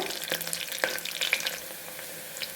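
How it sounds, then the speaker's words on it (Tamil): Onions and curry leaves sautéing with mustard seeds in groundnut oil, a soft continuous sizzle broken by light crackles and occasional stirring scrapes, fairly quiet and close with no talking. "கடுகு பொரிஞ்சதும் வெங்காயம், கட் பண்ணி வச்சுருந்த வெங்காயமும் கறி லீவ்ஸும் ஆட் பண்ணி லைட்டாக வதக்கிக்கோங்க."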